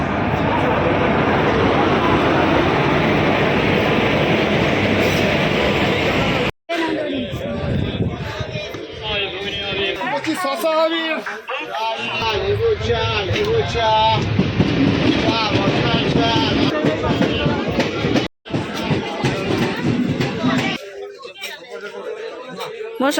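Howrah Azimganj Gorakhpur Express train arriving at a station platform, loud rolling wheels and rhythmic clickety-clack of passing carriages under a platform announcement and nearby chatter.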